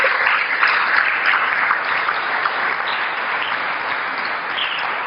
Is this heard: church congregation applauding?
yes